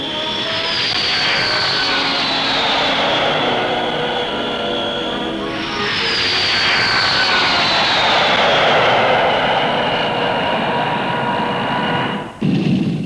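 An Armstrong Whitworth Argosy freight aircraft flies past at an air show, its loud engine drone swelling with falling pitch sweeps as it passes, sustained throughout with no speech.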